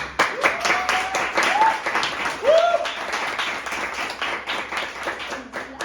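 Audience applause at a theatre-writing event, steady clapping from a group of spectators with a few voices calling out over it for several seconds.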